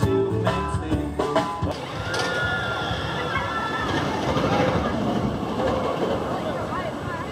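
A Six Flags Over Texas amusement park train runs with a steady rolling rumble and faint clickety-clack of wheels on track, with voices and some music heard over the moving cars.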